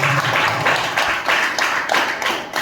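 A group claps at a business opportunity meeting, loud and close, in repeated bursts of hand claps that keep up a fairly steady rhythm through the moment.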